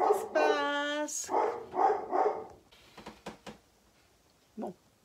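A small dog barks indoors, starting with a drawn-out whining yelp and then giving several sharp barks, which fade into softer yips and a final short bark.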